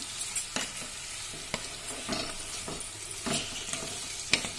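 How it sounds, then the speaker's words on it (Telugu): Tomatoes with a little turmeric fry in a pan for tomato pickle, a soft steady sizzle broken by a series of sharp scraping stirs, quiet and close with no voices. "కొద్దిగా పసుపు వేసి బాగా కలుపుకొని బాగా మెత్తబడే వరకు వేయించుకోవాలి"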